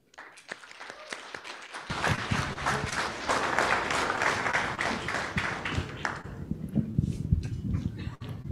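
An audience at the I Exist Too 2023 Equal Rights Coalition panel applauds in a full, sustained round that swells for about four seconds and then tapers off, followed by scattered room noise.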